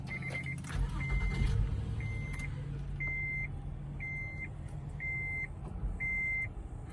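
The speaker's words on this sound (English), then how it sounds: "As you can see, the van starts right up, no issues." A 2014 Honda Odyssey Elite minivan engine running at idle, heard from inside the cabin: a steady low hum under a regular series of short electronic chimes, roughly one per second.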